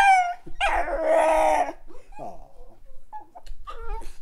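A dog vocalizes in a long, drawn-out howling yowl with pitch bends as it is coaxed to 'say' I love you, followed by shorter yips and whines close to the mic.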